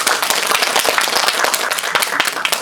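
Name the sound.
audience applause welcoming the guests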